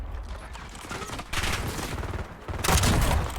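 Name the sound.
gunfight gunfire in video game Black Ops 7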